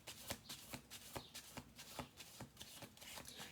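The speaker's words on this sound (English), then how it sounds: "we're going to do one more shuffle" A deck of tarot cards is riffled and bridged in a quick, rhythmic series of crisp flutters and snaps, close and fairly quiet, with about eight distinct bursts and no talking.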